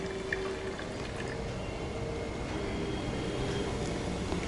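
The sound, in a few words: vinegar and baking soda fizzing in volcano model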